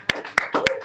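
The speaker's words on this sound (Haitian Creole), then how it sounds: "on applaudit mesdames" Women in a church congregation clap along in a short burst, with several sharp, close handclaps spaced through under a little background voice.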